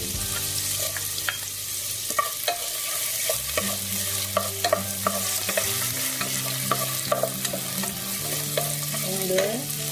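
Garlic frying in a pan for Korean beef stew: a steady, close sizzle with repeated spoon or spatula scrapes and taps against the pan, no voices.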